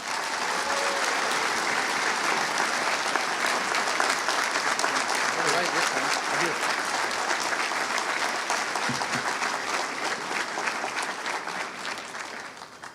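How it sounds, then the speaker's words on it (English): Steady, full audience applause at a Gulf Coast State College graduation ceremony as president Dr. John Holnack is welcomed to the podium, sustained and even throughout with faint crowd noise. "please join me in applauding and welcoming to the podium our president, Dr. John Holnack"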